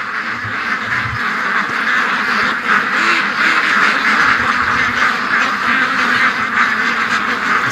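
A flock of ducks quacks continuously, a dense overlapping chorus that stays steady and fairly loud throughout.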